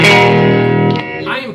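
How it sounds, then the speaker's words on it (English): Sustained chord on a 1969 Fender Custom electric guitar, strung with slightly heavier strings, ringing out through a 1971 Fender Princeton amp with a warm, slightly overdriven tone, decaying before a brief scraping note at the end. "I am playing, by the way, through a 1971 tail logo Fender Princeton amp."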